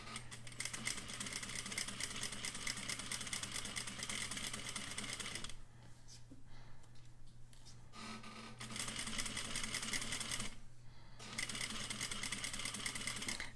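Sewing machine stitching a flat felled seam, running in steady mechanical whirring bursts with a short pause midway and near the end, close and continuous with no talking.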